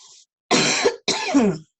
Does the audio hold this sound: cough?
yes